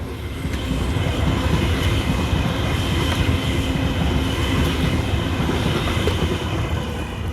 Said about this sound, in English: Those trains are going to Sydney.